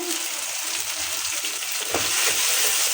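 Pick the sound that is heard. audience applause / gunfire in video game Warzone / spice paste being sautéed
spice paste being sautéed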